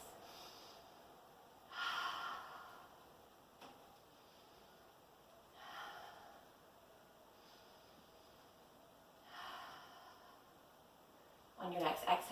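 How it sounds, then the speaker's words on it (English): Slow, deep breaths during a yoga session come as three audible nasal inhale-exhale cycles spaced a few seconds apart, close and soft, with a sharper breath at the end. "3 deep breaths."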